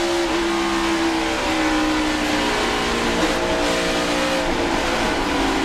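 A NASCAR stock car engine roars at high throttle during the 2008 Dollar General 300 race. The steady, loud drone shifts in pitch as the car accelerates and comes back on the throttle.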